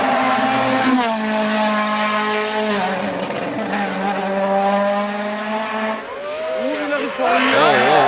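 Rally car on a gravel stage, engine climbing and dropping through the revs in long harmonic sweeps, loud and close, with a brief skid near the end as the pitch jumps. A voice talks over part of it.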